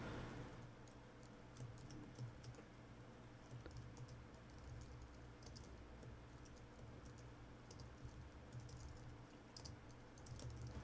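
Steady, fast typing on a computer keyboard while writing code, with quiet clustered key clicks running throughout at low level and no talking.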